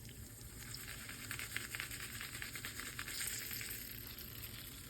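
Tempered spices for tadka sizzle steadily in a small pan for curd rice, a soft continuous crackle with faint spitting pops, heard alone at low level.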